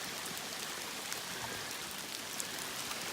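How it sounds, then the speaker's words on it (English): Steady, dense rainfall hissing evenly on leaves and ground outdoors, with occasional brighter drips standing out close by. "You can see it's still raining."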